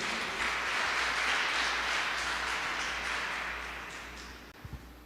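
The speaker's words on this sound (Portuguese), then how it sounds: "Vamos aplaudir ao Senhor por isso?" A church congregation applauds in a sustained wash of clapping that gradually fades out near the end, with no speech over it.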